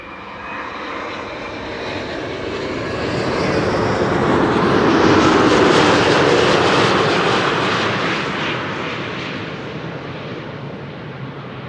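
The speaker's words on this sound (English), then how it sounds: "Delta Airlines Flight 56 arriving from Salt Lake City." A Delta Airlines jet arriving at Amsterdam Schiphol Airport after a flight from Salt Lake City roars steadily, swelling louder as it passes close by and then slowly fading, with no voices.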